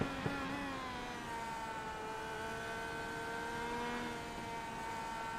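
Race car engine in a sim racing game at Spa-Francorchamps during the Ardennes Grand Prix, a steady high whine with rising and shifting tones as the car accelerates through a section of track, continuous and fairly loud with no talk.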